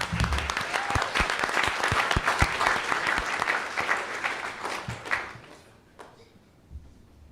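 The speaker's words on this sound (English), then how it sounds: "so let's give them a round of applause." An audience at a county board of education meeting applauds the school's HOSA student chapter, dense clapping that holds steady for about five seconds, then thins out and fades to a few scattered claps.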